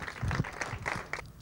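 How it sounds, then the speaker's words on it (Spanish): Short burst of applause for the winner of a San Isidro 2012 pigeon-shooting competition held by a hunters' society, clapping mixed with crowd murmur and a voice or two, fading toward the end. "Un gran aplauso."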